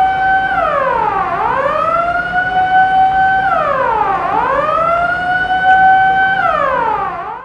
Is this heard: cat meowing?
no